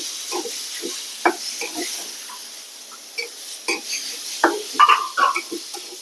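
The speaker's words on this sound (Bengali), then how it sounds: "আর এখন তেলের মধ্যে ভাজা ভাজা করে নিচ্ছি" Boiled pumpkin fries in oil in a pan, giving a soft sizzle broken by scraping stirs and spatters that come in uneven bursts, grow busier toward the end, with no voices.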